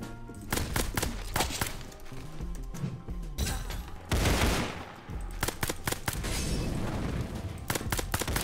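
AK rifle gunfire in Roblox Criminality, sharp loud shots in rapid bursts and single cracks spread across the stretch, with a thumping blast midway and no talking.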